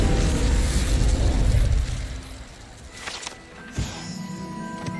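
The Incendio fire spell in Hogwarts Legacy bursts out as a loud roaring whoosh that fades after about two seconds, followed by quieter in-game tones and a single soft thump.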